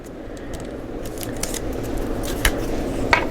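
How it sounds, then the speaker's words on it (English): Cardstock paper being folded for a cabinet card display box gives soft crinkling and scraping close by, with a few sharp crisp creases standing out near the end. "Let's fold this over."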